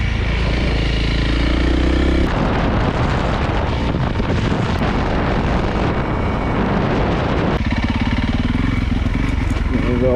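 Honda CRF 300 L motorcycle ridden gently with a worn rear tyre, its engine buzzing loud and continuous close to the rider, rising and easing with throttle amid wind rush, with a voice speaking over it.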